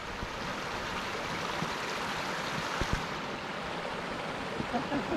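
A mountain waterfall among boulder fields on a Snowdonia trail, heard as a steady broadband rushing of water at moderate distance, fairly quiet and unbroken for several seconds.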